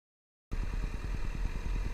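A motorcycle engine runs steadily after a silent half second, its low, pulsing exhaust throb close and continuous while the rider shifts gears, with no talk.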